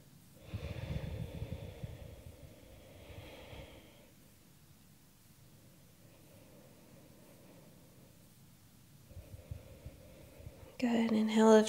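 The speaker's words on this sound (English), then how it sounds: "Two more breaths." Slow, audible yoga breaths during a beginner class, a long drawn inhale and exhale repeated twice with quiet pauses between, close and breathy, followed by a brief burst of other sound at the end.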